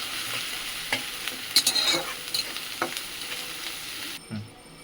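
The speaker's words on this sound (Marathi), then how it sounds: "लसूण, हे बघा, हे कुठल्याला शेंगदाण्याचं कूट, हिरवी मिरची, मीठ आहे त्याच्यामध्ये. तर परतून घेऊ मस्त." Garlic, crushed peanut powder, green chili and salt sautéed in a pan for a wild kurdu greens dish, with close spoon stirring and scraping, a few sharp clinks and a soft steady sizzle underneath.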